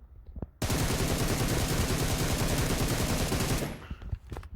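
Sustained automatic gunfire in a first-person shooter game, a dense rapid burst running about three seconds before stopping abruptly, loud and close, with no talk.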